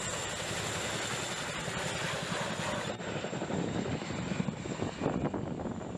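A CH-47 Chinook helicopter's rotors at sea give a steady, dense roar with a rapid thudding pulse, continuous and fairly distant, with no one speaking.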